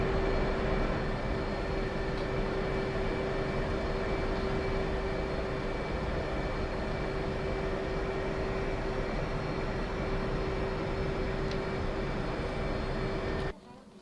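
A Hornet jet aircraft taxiing out gives a steady, loud engine roar with a sustained tonal whine running almost unchanged for about thirteen seconds, then cutting off abruptly near the end.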